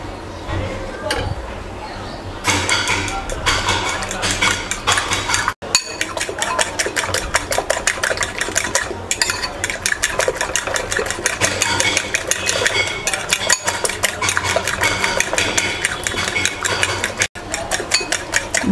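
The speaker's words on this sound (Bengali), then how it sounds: "ডিমটাকে প্রথমে ফেটে নেব" Eggs with turmeric, chili powder and salt are whisked rapidly for an omelette, producing a steady fast clatter of utensil against bowl that runs nearly nonstop at close range, with only brief pauses.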